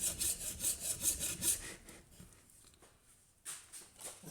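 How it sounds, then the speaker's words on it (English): A hacksaw rasps through a workpiece in quick, regular back-and-forth strokes, close and fairly quiet, then slows and fades to a few softer scrapes before one last stroke. "I managed to use just the hacksaw to be able to get that cut"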